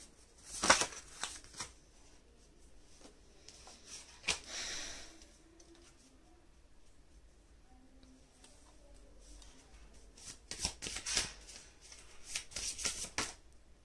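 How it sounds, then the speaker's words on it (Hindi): Oracle cards shuffled by hand, soft close riffles and flicks in two clusters separated by a quieter stretch, with faint breathing and room noise between them. "एक और कार्ड पुल करना चाहूँगी मैं मेरे लाइफ पर्पस ऑरेकल से"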